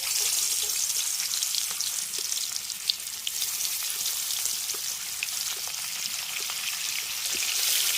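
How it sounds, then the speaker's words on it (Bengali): Shol fish lowered one piece at a time into well-heated oil, giving a loud, close, hissing sizzle full of crackles and small pops that holds steady throughout. "তেল খুব ভালোভাবে গরম হয়ে গেছে, এবারে একে একে মাছগুলো এর মধ্যে ছেড়ে দিচ্ছে"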